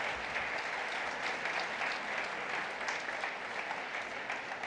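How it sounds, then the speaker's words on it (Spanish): Congregation at a Guatemalan church service gives a round of applause, a dense, even wash of many hands clapping that holds steady and fairly distant throughout. "Démosle un aplauso."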